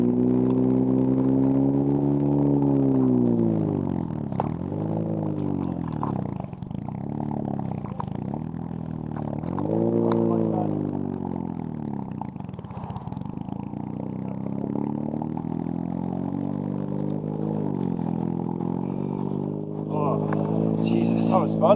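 A rally car with a worn, burning clutch drives along, its engine droning and rising and falling through revs, steady and close. Passengers talk over the noise.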